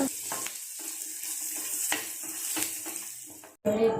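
Onions and a pinch of turmeric being stirred in a hot frying pan for poha upma give off a steady close sizzle, with a few scraping strokes of the spoon and a brief break near the end.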